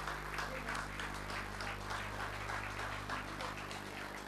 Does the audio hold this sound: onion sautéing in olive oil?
no